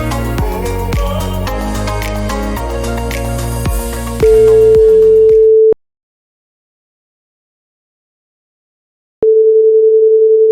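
Outgoing telephone call tone: a steady pure tone starts as background music ends, cuts off for a few seconds of silence, then returns just as loud and steady, with no talking over it.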